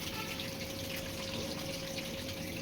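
Water runs steadily from the pipe of a Matt Grey RO+Alk 14L water purifier, a constant even gushing hiss with a faint tonal hum underneath, close and uninterrupted.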